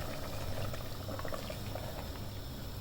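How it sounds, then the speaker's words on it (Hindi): Hot water pours into masoor dal sizzling in a pan, making a steady, close bubbling and hissing rush that holds evenly throughout, with no voices over it. "अब इसमें मैं आके पानी शामिल कर दूंगी।"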